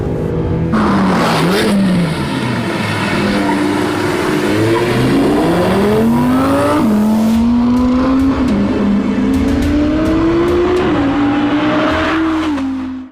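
Audi R8 supercar engine roaring loudly and continuously as the car is driven hard, revs rising and falling through gear changes with tyre noise, close and alone without voices.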